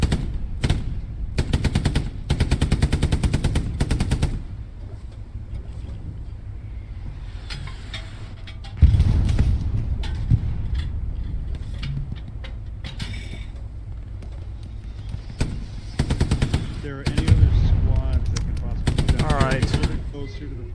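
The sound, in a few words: tank coaxial machine gun firing at infantry, Hell Let Loose video game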